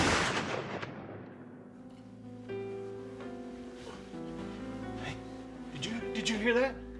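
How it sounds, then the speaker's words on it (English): A single loud, booming gunshot at night in a short film, opening with a sharp broadband crack that decays into a long ringing tail beneath a tense musical score that swells afterward. "It sounded like a gunshot."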